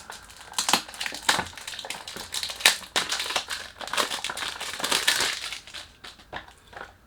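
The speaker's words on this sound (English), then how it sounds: "let's go with the unboxing" Dunhill London X-Centric cologne box being unboxed, its packaging crinkling and crackling in an uneven run of close rustles and sharp crunches, moderately quiet, with no talking.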